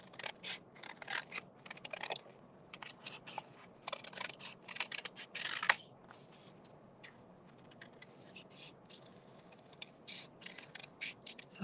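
Scissors snip through paper while cutting out superhero handprint cards, in quiet, intermittent bursts of sharp clips and rustles with pauses and some soft talk in between.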